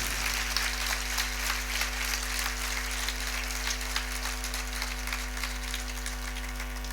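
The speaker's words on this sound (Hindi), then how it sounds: "जोरदार ताली बजाइएगा उनके सम्मान में।" Audience applause at a religious gathering, steady dense clapping sustained throughout over a constant low electrical hum, moderately loud with no talking.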